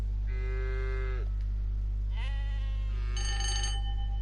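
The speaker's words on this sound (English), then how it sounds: "I'm hearing cows and sheep" A couple of drawn-out moos from cows and a higher bleat from sheep in a video game sound in turn over a constant low electrical hum, fairly quiet.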